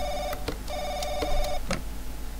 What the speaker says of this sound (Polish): O, telefon.